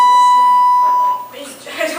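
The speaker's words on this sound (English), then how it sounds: "So now we're going to ring the bell." A ThyssenKrupp hydraulic elevator bell gives a steady electronic tone lasting about a second, followed by faint room noise and brief shuffling sounds.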